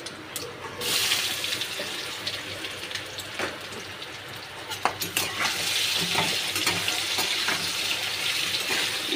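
Raw green mango pieces drop into hot oil with tempering spices for a sweet pickle, a loud burst of frying hiss with clatter and stirring that settles into a steady sizzle.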